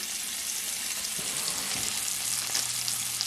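Garlic cooks in a pan for a creamy spinach sauce served with salmon, making a dense, even hiss of frying that runs unbroken throughout, loud and close, with no voices.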